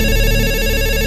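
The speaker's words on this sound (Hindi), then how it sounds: "अगले ही दिन मुझे हॉस्पिटल से दोबारा फ़ोन आया" A telephone rings with a steady, loud electronic tone that fills the whole moment without a break.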